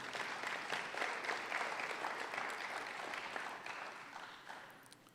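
An audience at a hospital's resident graduation and awards ceremony gives sustained applause for honored guests, loud and steady before easing off slightly toward the end.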